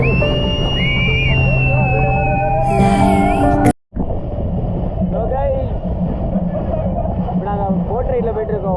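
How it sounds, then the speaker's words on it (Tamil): A boat carries riders out to a beach at Gokarna, its steady motor and rushing wind filling the ride, with music playing loudly on board and a brief dropout in the middle. "Boat ரைடில் போய்ட்டுருக்கோம் home beach."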